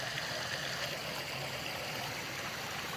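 A mountain creek on the flanks of Mount Rainier rushes steadily through its rocky channel, a continuous broadband wash of flowing water with no pauses, fairly close and even in level throughout.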